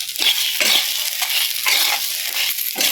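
Garlic and roasted lentils with a little tamarind are stirred in a pan for curry leaf podi, giving a bright, loud sizzle broken by rhythmic scraping strokes.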